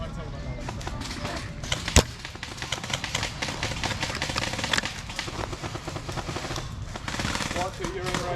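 Airsoft guns fire rapidly during a large outdoor battle game at a field, with dense bursts of clattering shots, one sharp loud crack, continuing throughout while people call out and talk.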